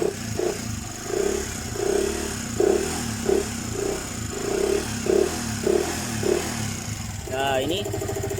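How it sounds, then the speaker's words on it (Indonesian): Yamaha Vixion motorcycle engine running with a faint knocking from the block, a steady rhythmic chug close by, with people talking over it and a brief whine near the end. "ini agak sedikit ngelitik pada bagian suaranya blok"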